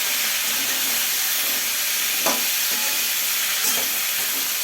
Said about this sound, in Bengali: কুমড়োগুলি দেওয়ার পর আমি একটু নাড়াচাড়া করে দিচ্ছি।